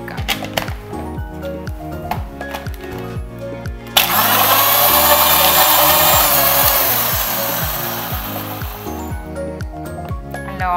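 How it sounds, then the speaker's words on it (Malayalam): An electric blender whirs loudly and close while blending banana, cream cheese, sugar, ice cubes and milk into a milkshake. The motor surges into a harsh steady roar partway through over background music. "ഇതെല്ലാം കൂടി നല്ലോണം ഒന്ന് അടിച്ചെടുക്കാം."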